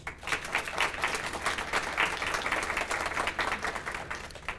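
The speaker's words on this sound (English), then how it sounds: "Please share a round of applause" Audience at a city beautification awards ceremony sharing a round of applause, many hands clapping in a moderate, slightly distant wash that stays steady without talk.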